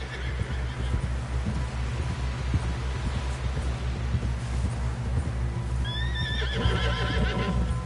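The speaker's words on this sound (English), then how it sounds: "Someone help John down off this horse." Horse neighs and whinnies over steady clip-clop of hooves in Red Dead Redemption 2, the hoofbeats running throughout with a loud whinny near the end, set against continuous outdoor ambience.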